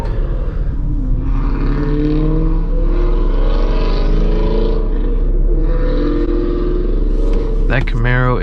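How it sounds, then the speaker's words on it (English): A Chevrolet Camaro engine revs hard and loud, a steady, throaty roar that holds for several seconds with a brief sharper rise near the end, while people talk over it. "That Camaro is absolutely screaming."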